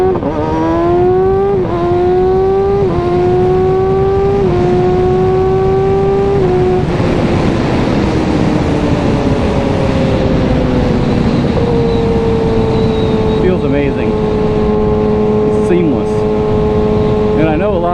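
A 2022 Kawasaki Ninja ZX6R, nearly new, pulls hard from first gear at full power, its engine note climbing and dropping in quick-shifter steps through several gears, loud and close throughout.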